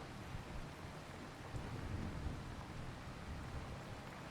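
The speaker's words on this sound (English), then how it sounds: "Come on, rain, go away." Steady rain with low rumbling thunder in the Farming Simulator 25 video game, on the Ladyhill Ireland map, a continuous wash of noise with a slightly heavier swell midway and no voices.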